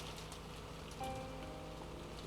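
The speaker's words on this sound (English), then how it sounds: "All is silent save for the rain." Steady rain hisses in Higurashi When They Cry, a continuous, even wash of falling water with no voices, briefly joined by a faint tonal sound.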